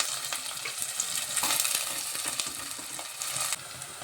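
Onions and green chillies fry in hot oil for a mutton kheema, a bright close sizzle with intermittent stirring scrapes and no voices.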